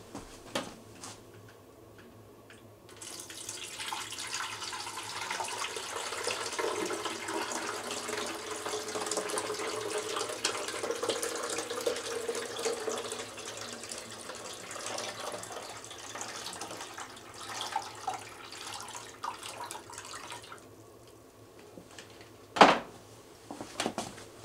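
Tap water runs steadily into a Brita water filter pitcher at a sink, a continuous broadband splash lasting most of the stretch, with quieter handling noises before and after and a sharp knock near the end.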